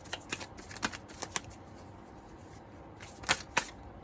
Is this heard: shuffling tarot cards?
yes